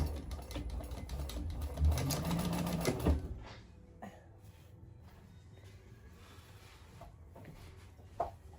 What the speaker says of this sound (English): Top stitch on the lining to hold that down.